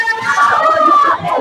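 A live game show crowd cheers and shouts together in one loud, sustained burst of many voices that holds for the whole moment.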